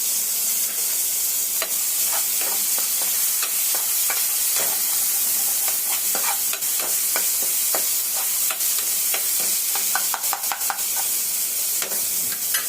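Tomatoes cooking in a pan in a home kitchen, a loud continuous sizzle with frequent pops, scrapes and clicks of stirring throughout, close up and alone.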